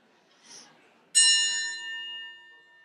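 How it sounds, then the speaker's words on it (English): A gong struck once during a church service, a sharp strike that rings out clearly and then decays slowly with a long shimmering tail, preceded by a faint brief murmur. "The gong will sound again, and then you will open your eyes to see the scene set before you."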